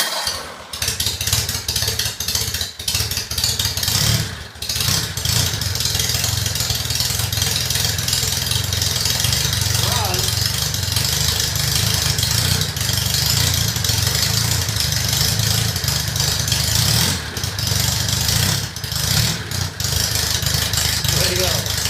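A 1948 Crosley COBRA engine runs steadily and loudly at close range for the whole stretch, with an even idle-like drone, a few brief dips and bursts, and people talking faintly over it.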